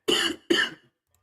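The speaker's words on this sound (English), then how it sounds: "This cough is going to be with me the whole game." Two sharp, close coughs in quick succession from a man with a persistent cough during a live basketball stream, followed by silence.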